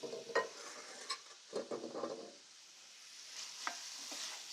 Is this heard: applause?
no